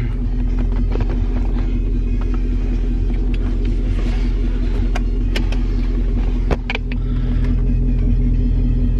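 A lowered truck's engine rumbles steadily from inside the cab while driving, with a deep, constant drone, road noise and a few brief knocks and clicks, and no voices.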